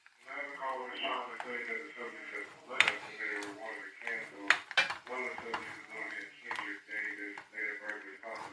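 A spoon scrapes and clinks around a metal pot while cheese sauce made from GV white cheddar is stirred, rhythmic knocks with a few sharper taps, under steady talking by a woman.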